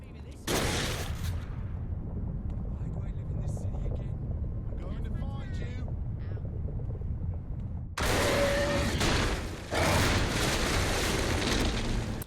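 Shark-O-Matic gun fired in Saints Row the Third, giving loud broadband game blasts and bursts with rumbling effects, a long stretch of action noise, then two more powerful roaring eruptions near the end.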